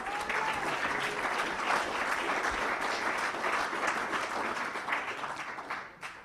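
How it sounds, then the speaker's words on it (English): Continuous applause fills a council chamber during a full council meeting, a steady crowd of hands clapping at even loudness before dropping off abruptly at the end. "Thank you for the applause which came earlier."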